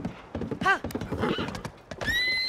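A horse in The Legend of Zelda: Tears of the Kingdom whinnies with a rising, wavering cry amid the clatter of hooves and thumps, fairly close, followed by a bright tonal game chime.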